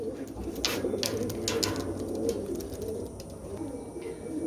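A Pakistani Cobra Teddy pigeon coos softly and repeatedly at close range, with a few faint higher chirps mixed into the low murmuring calls.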